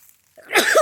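A single close sneeze bursts out abruptly near the end, after a near-silent moment, during a hike with friends.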